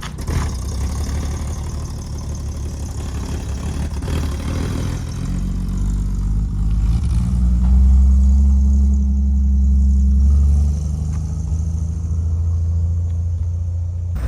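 A 1964 Chevy G10 van's engine rumbles loudly and continuously while driving off-road, a deep low growl that swells and surges in the middle before settling back, with no talk.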